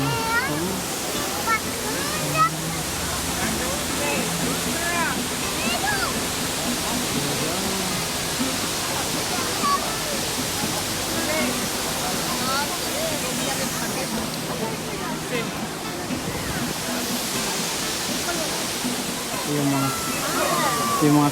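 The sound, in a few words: Multnomah Falls waterfall in Oregon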